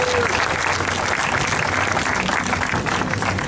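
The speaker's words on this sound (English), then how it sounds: "Give her a round of applause." Audience at a pier-side public debate on ocean desalination applauds a panelist, giving a continuous, even roar of clapping at steady loudness throughout, with no speech over it.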